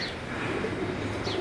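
Heera Lal pigeons coo softly inside a cage, a low murmuring coo close by over a faint airy background.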